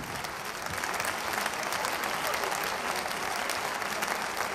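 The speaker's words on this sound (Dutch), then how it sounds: "Een hartelijk applaus." Audience applauding the evening's winners at a Venlo event, a steady, full crowd of clapping that stays even and sustained throughout.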